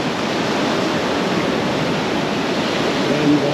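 Sea water at a Goa beach washes over bare feet, a continuous broadband rush of surf heard close and fairly loud, with no clear pauses through the short stretch.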